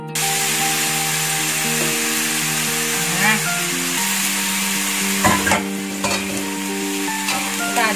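Jicama, carrot and spring onion sizzle steadily in a hot pan while being stirred, with scraping clatters of a utensil around the middle and a sustained musical tone running underneath.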